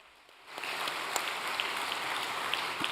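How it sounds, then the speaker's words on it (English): Applause from an audience at a church gathering, starting abruptly after a quiet moment and continuing as a soft, dense, even patter of many hands heard at a distance. "Let's give him a big round of applause."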